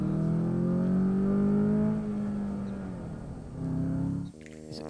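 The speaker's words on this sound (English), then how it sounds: "Is this just piped in engine noise?" Inside a performance sedan, engine noise played through the speakers swells into a loud revving drone with rising harmonics, then eases off before cutting to a different tone at the end.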